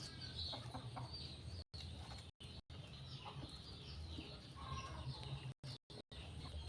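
Chickens cluck and chatter close by in a noisy poultry yard, a dense, busy stream of calls with a few abrupt cuts of silence breaking it up.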